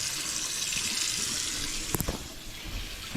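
Fast water flow from a faucet into both sides of a freshly repaired and unclogged kitchen sink, a steady close rush with a few sharp knocks near the middle and no talking.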